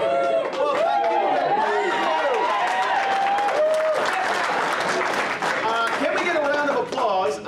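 Audience at a live Dragoncon convention show clapping and cheering loudly, a thick continuous roar of applause with whoops and shouting voices layered over it throughout.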